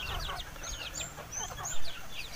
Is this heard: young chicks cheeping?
yes